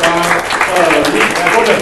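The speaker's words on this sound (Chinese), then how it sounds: "我们就来热烈掌声，至少5秒钟来欢迎郭董" Audience at a university talk in Taipei breaking into warm, dense applause to welcome a guest speaker, loud and continuous with voices mixed in.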